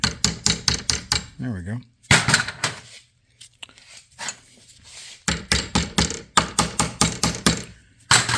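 Sharp hammer blows set steel rivets into a rubber-bushed suspension part on a 1973 Mercedes 450SL R107, coming in quick bursts of close, loud metallic strikes with pauses and a brief spoken remark between them.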